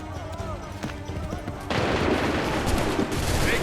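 Musket volley on command in Assassin's Creed 3, with scattered shots and clatter giving way to a sustained, loud roar of massed gunfire amid battlefield noise and shouted voices.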